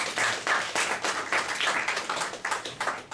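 An audience at an academic talk on the performance art of insults breaks into steady applause, many hands clapping in a dense, even patter at moderate volume with no voices over it.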